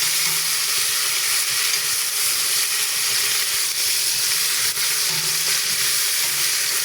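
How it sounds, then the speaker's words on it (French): White cabbage and potatoes, with onions and garlic, fry in a pan while being stirred. A loud, continuous close sizzle runs without a break, with faint scraping from the stirring underneath and nobody speaking. "On va remuer tout ça."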